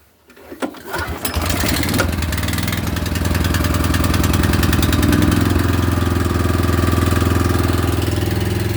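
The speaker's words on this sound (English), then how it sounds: "I'll turn the key on and I will start the engine." A Honda HSS 1332 snowblower engine cranks, catches after a second or so and settles into a loud, steady running chug close by, with no voices over it.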